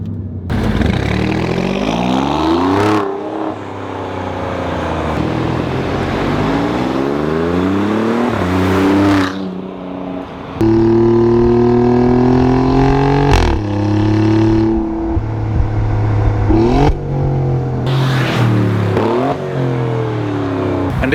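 Alfa Romeo Giulia Quadrifoglio engine revs hard and climbs through the gears, each upshift cutting in sharply before the note rises again, loud and close throughout.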